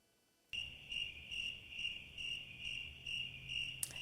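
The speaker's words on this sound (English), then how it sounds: "This one is the crickets." Steady, continuous cricket chirping with a regular pulsing rhythm, fairly close and clear, no voices.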